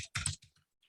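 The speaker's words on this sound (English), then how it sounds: "I am typing" Quick bursts of keystrokes on a computer keyboard while filling in a web form, a few clustered clicks followed by sparser taps, close and clear with no talking.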